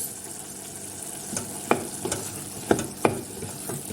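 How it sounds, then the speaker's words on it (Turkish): Lentil soup simmers in a pot, with a continuous bubbling hiss and several sharp pops and clinks, close and steady, with no talk. "Bu şekilde çorbamızı kaynatalım."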